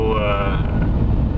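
Strong wind gusting across the open shore at Cape Town, a steady broadband roar buffeting the microphone throughout, with a faint tonal hum fading out early on.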